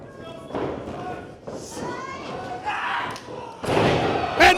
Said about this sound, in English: And there's a huge headbutt.